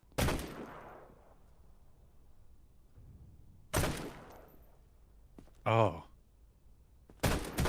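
In the video game Quarantine Zone: The Last Check, three loud single gunshots go off several seconds apart, each with a short ringing tail, and a voice briefly exclaims between them.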